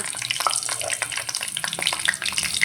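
Cumin seeds and green chillies crackle in hot oil, a busy close-up spatter of sharp pops over a continuous hiss, with no talking.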